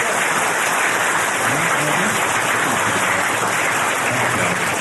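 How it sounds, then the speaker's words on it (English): An audience applauds after a winter lecture on Robert E. Lee, a dense, even wash of clapping that holds steady and fairly loud for a few seconds, with no talk. "Very kind of y'all to applaud"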